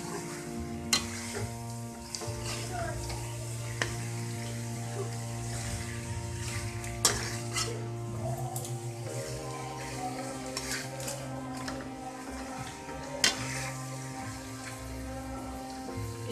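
Kachnar (orchid tree buds) being stir-fried with keema that was first cooked with yogurt and ginger, giving a steady low sizzle with occasional stirring clinks, close and even, alone without talk.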